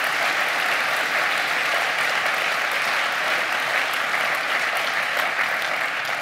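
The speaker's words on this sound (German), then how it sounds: "Applaus" An audience at an evening lecture event applauds steadily and loudly, dense continuous clapping filling the hall for several seconds with no talking.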